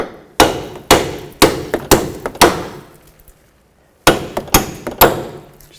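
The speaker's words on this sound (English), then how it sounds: "And you want to hammer the bolts out." Sharp metallic hammer strikes drive strut bolts out on a 2005-2010 Chevy Cobalt front strut assembly, about a dozen close, loud blows in two bursts with a pause between.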